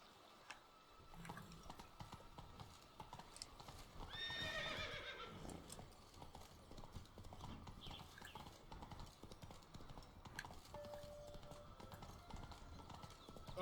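A horse in The Witcher 3 video game clip-clops along at a steady trot and gives one clear neigh partway through, set against a quiet in-game ambient background.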